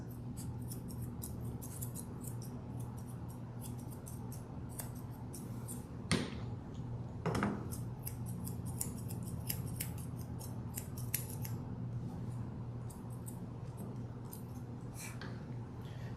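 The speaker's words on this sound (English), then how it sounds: "I'm going to start with the bottom, back brushing all the hair to the bottom and trimming everything that comes past his pads." Scissors snip repeatedly while trimming the hair around the foot pads of a Lhasa Apso, a steady run of close, crisp cuts over a low hum, with no voices.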